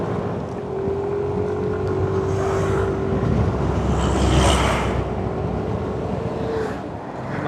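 A touring vehicle on the road from Bandung toward Bromo, passing through Kelakah, speeds up, its engine a steady close drone with a rising whine under heavy wind rush across the whole stretch.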